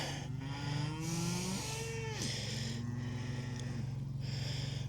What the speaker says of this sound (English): Cows are bellowing.